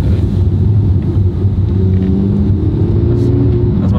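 Inside a Porsche 991 fitted with a sports exhaust, the engine makes a loud, steady low rumble and drone through the cabin, with slight shifts in pitch late on.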